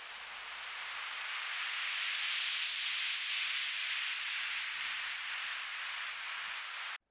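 A synthesized noise sweep, automated and treated with auto pan, phaser, delay and reverb in a deep progressive house production, rises as a broad steady hiss that swells slightly mid-way and sustains alone before cutting off abruptly.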